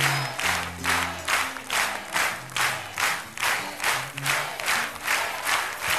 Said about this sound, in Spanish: El aplauso más fuerte